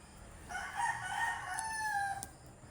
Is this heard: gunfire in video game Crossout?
no